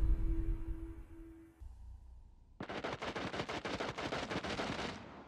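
Gunfire in Rainbow Six Siege on the Villa map: a low, quiet stretch gives way to a loud, close burst of roughly a dozen rapid shots in quick succession.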